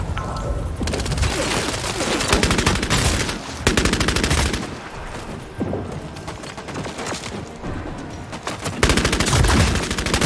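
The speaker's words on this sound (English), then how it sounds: "They're still popping shots at you." Gunfire in the Apex Legends video game: dense rapid bursts of automatic fire and repeated loud shots, near and punchy, broken by short pauses between volleys.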